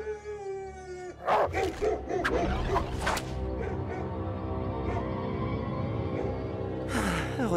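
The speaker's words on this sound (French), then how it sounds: "Oh, mais les chiens chasseurs ne le savent pas." Hunting dogs bark in a rough, repeated burst near the start, followed by further scattered yelps and barks over a dense, busy background.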